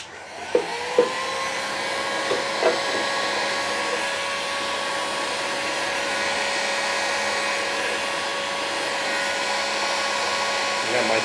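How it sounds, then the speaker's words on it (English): A heat gun runs on its max setting with a steady, loud, droning whir that holds an even tone throughout, with a few faint clicks near the start. "got my heat gun set on max setting."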